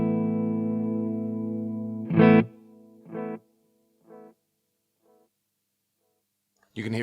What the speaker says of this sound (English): This is the tape delay.